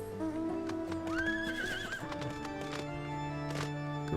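A horse mount in the Final Fantasy XIV video game lets out a loud, clear whinny that rises and wavers over steady clip-clop hoof sounds and background game ambience.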